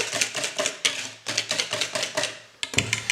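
A spoon stirs lemon zest into cake batter in a bowl, making quick, rhythmic tapping and scraping strokes close by with a few brief pauses.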